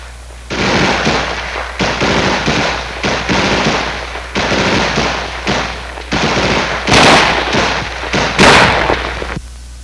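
An M16A1 rifle fires repeated short bursts of automatic gunfire, about seven loud, rapid volleys separated by brief pauses, heard close up.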